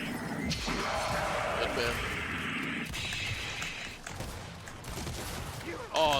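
Gunfire in Gears of War: E-Day multiplayer plays as continuous dense bursts and crashing impacts, loud and sustained, mixed under excited voices talking over the action.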